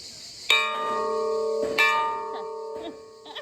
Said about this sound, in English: I had fun hitting the gong.